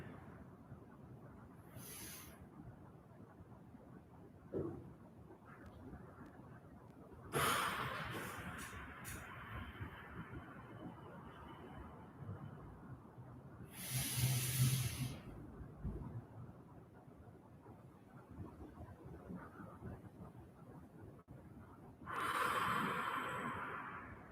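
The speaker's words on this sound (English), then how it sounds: "Focus on controlling your breathing." Controlled breathing exercise before taekwondo poomsae practice, with a few slow, forceful breaths, each a loud, airy burst lasting a second or two, separated by long quiet stretches of room tone.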